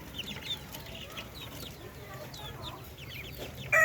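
Darag native chickens and their chicks on a farm cluck and peep in a busy, overlapping chatter, with one louder, sharper call right at the end.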